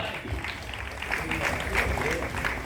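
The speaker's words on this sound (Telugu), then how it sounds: "గట్టిగా చప్పట్లు కొట్టాలి" Students and staff at a junior college felicitation ceremony clap together in a steady, dense wash of applause that holds at a moderate level throughout, with a faint voice or two mixed in.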